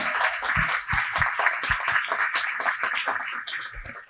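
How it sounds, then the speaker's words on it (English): Audience at a demo night event gives a round of applause, bright dense clapping with some heavier individual claps standing out, steady and fairly loud before tapering at the end. "Please join me in giving them a round of applause."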